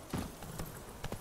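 Horse hooves galloping in The Witcher 3: Wild Hunt, a quick run of close, clear clip-clop beats over a steady background bed, with no talk.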